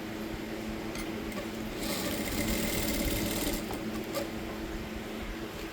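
A sewing machine runs steadily while stitching the shoulder seam of a blouse, a continuous close whirring hum with a slight rise in pitch midway and no talk.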